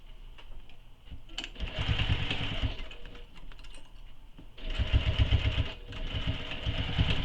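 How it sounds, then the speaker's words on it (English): A sewing machine stitches a commuter tote bag in two bursts of rapid, close mechanical whirring, separated by a brief pause. "And then we're going to stitch that in place."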